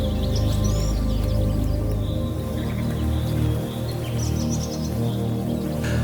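Birds calling in the Amazon rainforest: scattered chirps and short whistled phrases sit high above a dense, steady low rumble, fairly distant and continuous throughout, with no talking.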